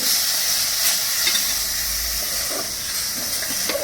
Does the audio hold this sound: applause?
no